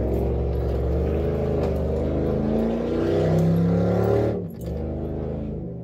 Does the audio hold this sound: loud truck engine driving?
yes